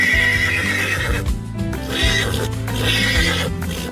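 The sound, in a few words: horse neighing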